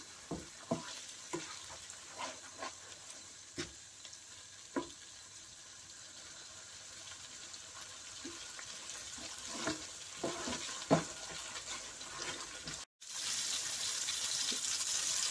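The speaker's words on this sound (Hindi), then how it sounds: "थोड़ा सा मोर वाटर ऐड कर देंगे।" Water poured into a simmering salmon curry of cooked onions and tomatoes, with steady sizzling and bubbling broken by scattered stirring clinks and scrapes, and a brief gap before a louder rush near the end.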